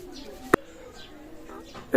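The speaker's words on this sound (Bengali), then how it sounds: "আজকে অনেক কবুতর দেখাবো" Pakistani high-flying teddy pigeons in a loft give soft, low cooing, with a couple of sharp knocks and faint background voices.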